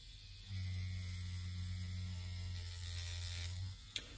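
A rotary tattoo machine runs at a low voltage setting, a close, steady electric buzz with a hum that starts abruptly, holds for about three seconds and stops, followed by a single click.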